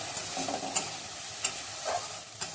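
Spices frying in a pan with a steady, soft sizzle, broken by a few light scrapes of a spoon stirring, close and unaccompanied by voices.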